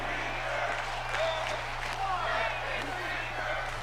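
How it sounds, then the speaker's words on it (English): An arena crowd in the WWE 2K23 wrestling game keeps up a steady, loud cheering roar through the whole stretch, with no breaks and no distinct individual voices standing out. "The crowd is starting to get rowdy."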